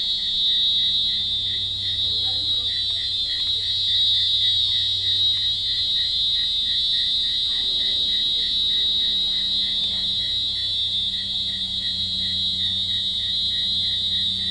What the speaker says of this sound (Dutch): Het lijkt net het autoalarm van van de buurman, maar dat is het niet. Het zijn cicades.